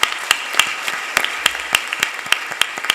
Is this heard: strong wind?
no